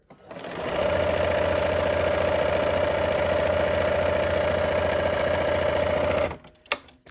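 Sewing machine stitching quilt half-square triangle units a quarter inch from a drawn diagonal line, running steadily and close for about six seconds with a constant hum, then stopping abruptly.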